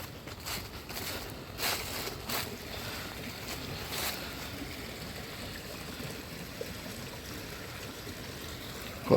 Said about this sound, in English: quite a lot of flowing water down there, going off into the distance